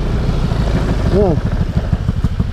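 A motorcycle engine idles nearby with a low, rapid chugging pulse, while someone briefly talks over it.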